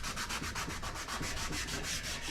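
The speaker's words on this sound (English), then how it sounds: "this is just one of the little green nylon scrubbies. And it should be enough to take that surface rust off" Green nylon scrubby pad scrubbing surface rust off a stove, a steady close rhythmic back-and-forth rasp of quick even strokes with no pauses.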